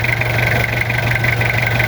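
A warm Toyota 2L diesel engine runs with its oil cap off, giving a loud, steady idle with an even knocking clatter and no talk over it.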